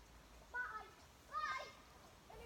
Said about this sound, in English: 3 kids playing freely in the woods on a Sunday afternoon